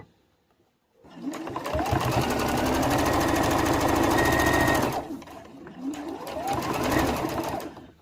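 A sewing machine stitches fabric for a mug rug in two close, loud runs, a long steady whir of rapid needle strokes, a short pause, then a shorter burst.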